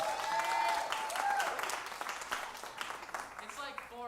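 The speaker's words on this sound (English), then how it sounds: "So, Emmanuel, ladies and gentlemen, give him a round of applause." An audience breaks into applause, steady clapping that slowly thins out, with a voice starting to speak near the end.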